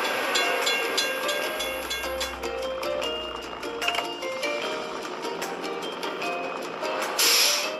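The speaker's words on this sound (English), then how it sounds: "We have to wait for the train to pass." A train passes a closed level crossing in a vehicle-repair video game, making a continuous loud rumble and rattle of rail cars with dense metallic clatter throughout, and briefly louder near the end.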